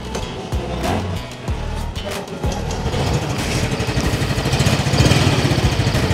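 A Yamaha Mio Gear 125cc scooter with a Smart Motor Generator starts and settles into a steady, fairly loud idle, its low engine pulse running close to the listener throughout with no talk.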